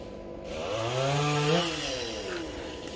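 A chainsaw roars close by while felling a tree, its engine pitch rising and then falling as it bites into wood, loud and continuous for a few seconds.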